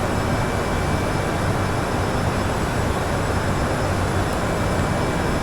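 Steady broadband roar of airliner cockpit noise during the climb through 27,000 feet toward flight level 320 on a flight from LaGuardia to Cincinnati, a constant dense wash with no breaks and no talk.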